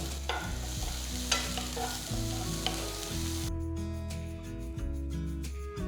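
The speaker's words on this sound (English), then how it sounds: "Saute the vegetables for about 5 minutes." Chopped garlic, onion, green chilli and capsicum sautéing in oil in a pan for fried rice, a steady close sizzle with repeated scraping stirs of a spoon throughout.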